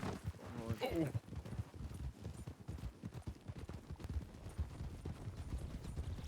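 Hooves clip-clop in a steady galloping rhythm from a horse in a video game, close and moderately loud beneath ongoing talk.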